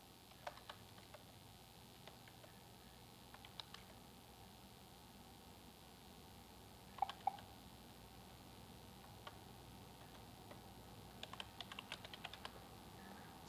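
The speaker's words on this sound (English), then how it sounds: "Now, suppose we're typing something." Soft, sparse keyboard typing: scattered light key clicks, with a brief flurry near the middle and more toward the end, against quiet hiss.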